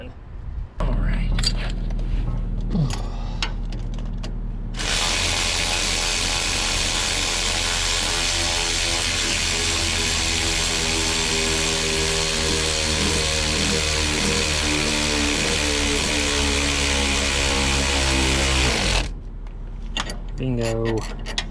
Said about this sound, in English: let's tighten everything up, put the wheel back on, and be done.